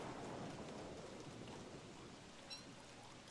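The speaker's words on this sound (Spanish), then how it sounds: "Y vaya chaparrón, macho, no para de llover, ¿eh?" Heavy rain pours steadily in Don't Starve, a dense, even hiss of downpour with a faint rumble of thunder underneath, filling the whole stretch without letup.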